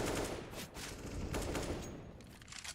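Rapid gunfire crackles in a Counter-Strike: Global Offensive match between BIG and Entropiq, several overlapping bursts of shots at moderate loudness with no break.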